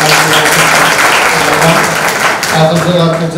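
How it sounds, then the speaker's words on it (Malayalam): Loud applause from a college audience at a magazine launch event honouring a teacher, dense continuous clapping with voices mixed in. "വലിയൊരു കൈയടി"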